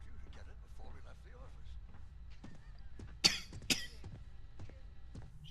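Two sharp, close coughs from a character in the space game Starfield, a quick pair of bursts standing out over steady background game ambience and low murmuring voices.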